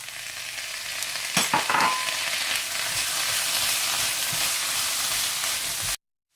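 Vegetables and sweet corn stir-fry in a hot pan for schezwan rice, with a steady close sizzle and a few sharp scraping clatters of the spoon near the start. The sound then cuts off abruptly into silence.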